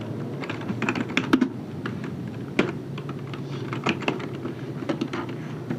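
Steady bursts of typing on a computer keyboard while writing code, close and clicky with irregular rhythm and a few louder key strikes, no voices.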